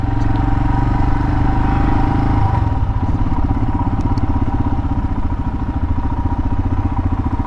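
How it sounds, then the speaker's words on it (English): A Royal Enfield Himalayan 2022 motorcycle rides through town, its single-cylinder engine thumping loudly and steadily up close, with a slight change in engine note partway through and faint clatter over the top. "really easy to maneuver this motorcycle"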